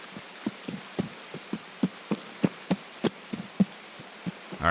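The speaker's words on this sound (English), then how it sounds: "And now it's raining, so that really kind of sucks, actually." Video game rain patters in scattered, irregular drops, each a soft tap, steady and close with no talking.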